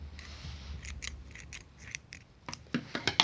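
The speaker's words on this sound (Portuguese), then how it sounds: "onde eu corto o fio" Scissors snip through Barroco Max Color No. 4 yarn while finishing a crochet skirt, a series of sharp close cuts, sparse at first and then quicker and louder toward the end, with no talking.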